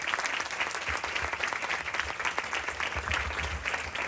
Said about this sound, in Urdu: خداوند یسوع کے جلال کے لیے زوردار تالیاں بجائیں